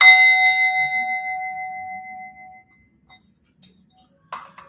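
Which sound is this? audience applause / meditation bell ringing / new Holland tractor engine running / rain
meditation bell ringing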